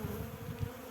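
Honeybees buzz softly inside a crowded hive cluster, a low steady droning hum with faint pulsing swells, close and continuous for a brief moment.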